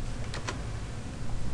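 Quick typing on a computer keyboard while entering a network command, a short run of close, light key clicks with a couple of distinct taps.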